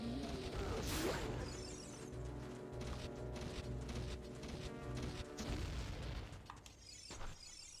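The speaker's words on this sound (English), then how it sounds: "Stay nearby, but don't get too close to the bomb" A bomb explosion in The Legend of Zelda: Ocarina of Time: a burst with a bright crack and boom near the start, then a sustained rumbling game soundscape with scattered thuds and clatter, fairly faint overall.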